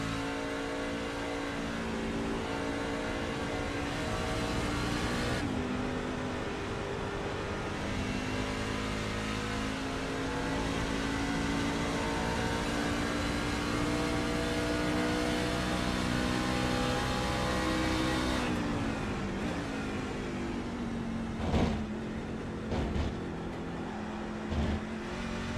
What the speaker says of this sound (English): Let's listen to his throttle as well.